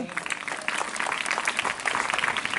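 An outdoor crowd at a farmers' event applauds loudly, a dense burst of hand claps sustained throughout, fairly close.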